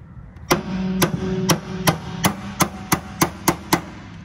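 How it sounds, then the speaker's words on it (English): Hammer blows knocking a stuck clutch lever on a 1961 Morris Minor pickup, ten sharp metallic strikes in a steady rhythm, close and loud over a low background hum. "I'm going to take a hammer,"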